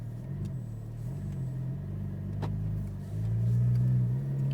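A Porsche Cayman GT4 pulls away onto a track, its engine a steady low rumble that swells louder near the end as it accelerates, close and continuous with no talk.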